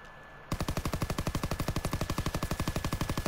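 Rapid automatic gunfire from a weapon being tested for recoil in Call of Duty WW2, a loud, steady burst of about thirty evenly spaced shots that starts abruptly after a brief quiet moment and runs without pause.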